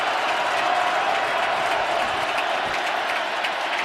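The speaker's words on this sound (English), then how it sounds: "Crowd is revved up." A packed stadium crowd roars at a 2018 NFL game between the Steelers and the visiting Ravens, building for a third down: a dense, steady wall of cheering and applause that stays loud throughout.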